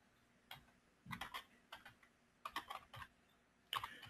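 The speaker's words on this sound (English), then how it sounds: "So I type it in" Computer keyboard typing while entering text into online CRM software, a few soft clusters of key clicks with short pauses between, close and quiet.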